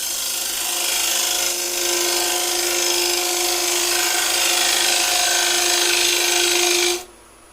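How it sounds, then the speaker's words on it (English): Skew chisel cutting a spinning wooden bowl on a woodturning lathe, a steady loud scraping hiss with a constant motor hum for about seven seconds before stopping abruptly. "So I use a skew, so I can just come in, pick the cut up,"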